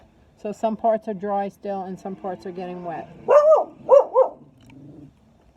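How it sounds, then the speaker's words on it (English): A pet dog barks a few times, close and fairly loud, right after a person speaks about a mixture being partly dry and partly wet while making garden stones. "And that was my dog,"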